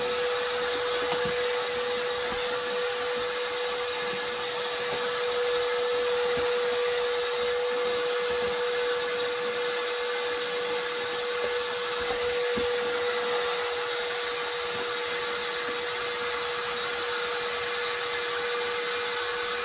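A Ryobi cordless wet vac runs continuously at close range, giving a steady whirring motor hum with a constant pitch and level throughout, with no voices over it.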